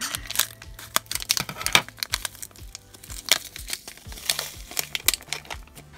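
Plastic blind-bag toy packaging crinkles and rustles in quick, uneven bursts, close and fairly loud, with a faint tonal background underneath.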